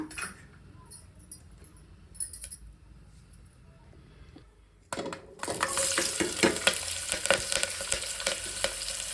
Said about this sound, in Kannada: ಎಣ್ಣೆ ಕಾದ ಮೇಲೆ ಈರುಳ್ಳಿ ಮತ್ತು ಕರಿಬೇವು ಹಾಕೊಳ್ಳೋಣ